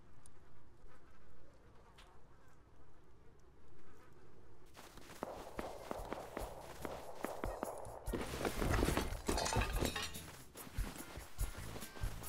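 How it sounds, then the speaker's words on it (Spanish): Flies buzz in the survival video game Rust: a faint, steady insect hum at first, then louder, busier in-game noise with footsteps and small clinks layered over it, with no talk. "Son moscas, ¿vale?"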